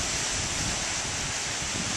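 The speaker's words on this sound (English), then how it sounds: "watch the waves come in and out all day long" Sea waves roll in and out on a beach near offshore rigs in Baku, Azerbaijan, a loud, continuous surf wash mixed with wind rumble on the microphone, with no talking.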